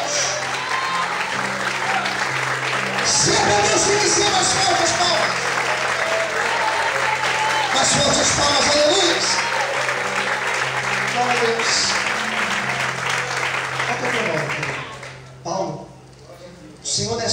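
Congregation in a church applauding loudly and steadily for most of the stretch, a dense sustained clatter of many hands that thins and drops out near the end.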